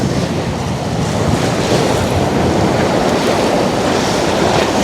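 Strong wind roaring across a seashore on Jeju, buffeting the microphone with constant loud rushing noise blended with breaking surf, steady throughout and with no voices.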